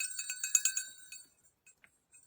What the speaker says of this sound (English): that's what it sounds like if you use a clay pot